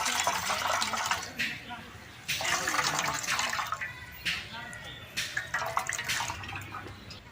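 Ground coconut wrapped in cloth is wrung out by hand to press out its milk, giving bursts of wet squelching and trickling liquid that come in several surges, with a voice talking over parts of it.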